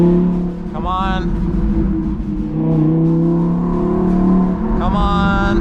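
An Audi R8 driven at night, its engine surging in two sharp revving bursts over a steady loud drone of road and engine noise, with no talking heard.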